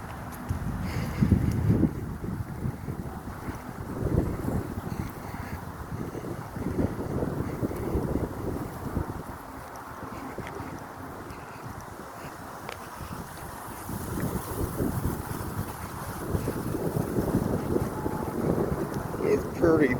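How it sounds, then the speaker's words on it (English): Gusty wind buffets the microphone during a walk in a park, a steady roaring rush that swells and eases in strong waves across the whole stretch. "It's pretty breezy."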